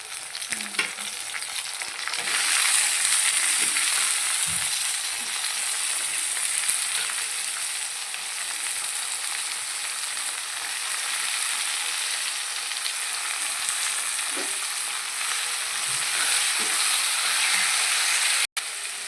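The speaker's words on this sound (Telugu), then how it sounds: "అది వేగింది కదా, టమాటో వేసుకుందాం" Tomatoes go into hot oil for an egg masala curry and set off a loud, continuous frying sizzle with a hissy steam wash, while occasional soft stirring knocks sound close by and no one talks.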